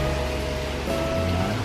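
Steady rain falling outdoors near ponds where daphnia water fleas are raised, a dense continuous hiss of drops with a low rumble underneath and no voices.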